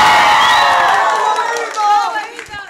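A classroom group of children cheers and shouts loudly, with high whoops and excited yells, some clapping mixed in, and the noise tapering off into scattered shouts and voices toward the end.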